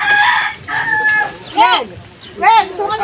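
A seaside rooster gives several nearby crows, sharp arching calls in quick bursts over about three seconds, with faint human voices mixed in.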